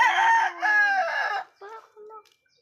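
A rooster crows loudly and close at a backyard chicken coop, one long drawn-out cock-a-doodle-doo followed by a few softer clucks and short calls fading into quiet.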